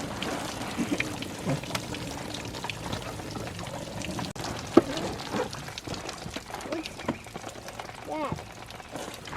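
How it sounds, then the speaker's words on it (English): Water pouring and trickling out from under a rain barrel, a close, continuous splashing stream with small gurgles, heard beneath people talking. "Oh, there's water coming from under here."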